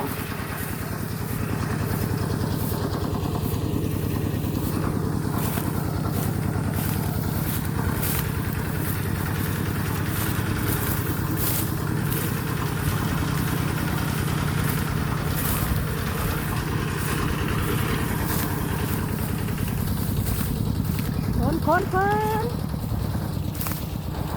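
A steady, low farm tractor engine drone runs continuously throughout in a rice field, with faint voices and a brief bird-like chirp near the end.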